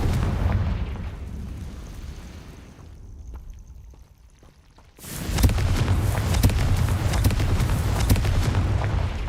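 A Confringo fire-blast spell erupts in Hogwarts Legacy, a sudden loud booming burst after a quieter lull, followed by a sustained rumbling, crackling roar.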